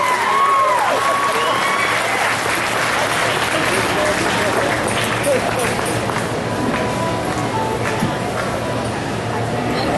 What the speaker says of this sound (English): But let's give these kids a big round of applause.